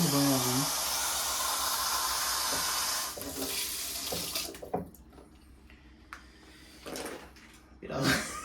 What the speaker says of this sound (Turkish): Birazcık su koyayım ya.